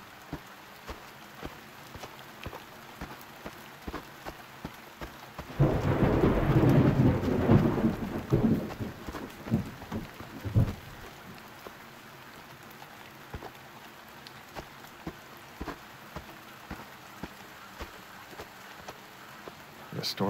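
A thunderstorm with rain in the video game Reveil, steady rainfall throughout with a loud rolling thunder rumble swelling midway and slowly fading back into the patter of rain.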